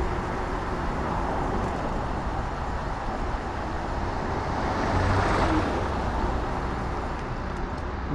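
A car driving fast through Tokyo streets, a steady broad road roar with tyre and engine noise throughout, swelling slightly midway as traffic passes, no voices.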